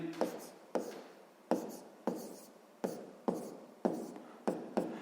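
Pen strokes on paper while working a sixth-grade maths exercise by hand, a series of sharp, close taps and short scratches repeating at an uneven rhythm, about ten distinct marks.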